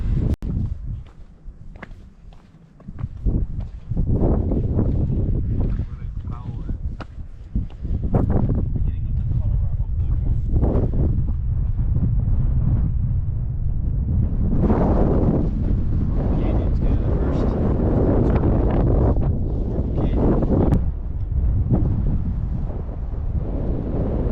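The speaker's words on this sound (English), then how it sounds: "it's a little bit windy up here" Wind gusting across a Grand Canyon cliff edge, buffeting the microphone in loud low rumbles that swell and ease throughout, with footsteps and a voice talking intermittently over it.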